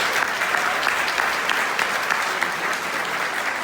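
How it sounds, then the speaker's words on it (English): An audience claps together at an Equality Day gathering, a dense, even burst of applause that holds steady and loud for a few seconds without voices over it. "give yourselves a round of applause for showing up today and making a difference"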